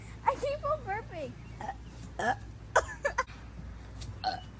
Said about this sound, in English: Yep, just burped again.